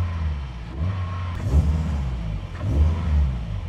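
Subaru WRX STI with a LINK ECU, tuned to about 600 horsepower, idling with low rumble and two throttle blips that swell then settle back, close by and alone.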